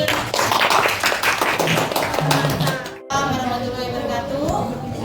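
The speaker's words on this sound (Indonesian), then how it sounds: "tepuk tangan untuk kelompok ini" A classroom of students claps for a student group after its presentation in a coding and artificial intelligence lesson, a dense burst of hand claps lasting about three seconds before a voice starts talking.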